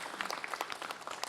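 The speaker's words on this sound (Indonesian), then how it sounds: "tepuk tangan dulu" Brief, fairly faint clapping from a studio audience on an Islamic religious talk show, a short burst of scattered hand claps.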